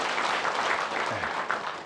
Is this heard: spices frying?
no